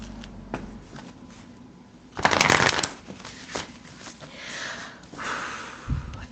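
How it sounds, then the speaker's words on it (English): A deck of cards being shuffled by hand, with a loud riffle burst in the middle and softer shuffling and handling sounds before and after, close and alone. "Let's give it 3 shuffles"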